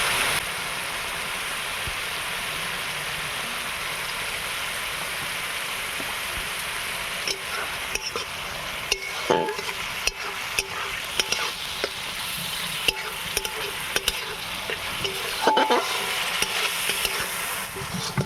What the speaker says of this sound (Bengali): এখানে আমার গোটা পেঁয়াজ আর বাটা পেঁয়াজ একসঙ্গে ভাজা হয়ে গেছে